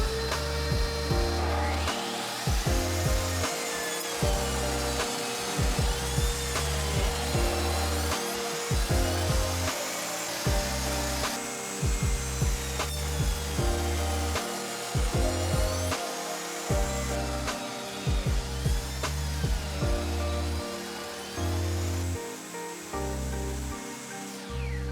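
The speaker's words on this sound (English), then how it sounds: "Last thing to do with the boards before we glue them is to cut them to their final width on the table saw." Walnut boards are ripped to final width on a table saw, the blade whining through repeated cuts with spinning-down and restarting passes, a steady mid-level machine drone with bursts and pauses across the whole stretch.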